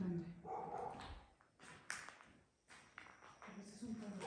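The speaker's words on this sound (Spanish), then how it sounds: "Ese es un perro." A dog barks a few times at a distance around ruins, short muffled yaps among rustling, while people talk quietly nearby.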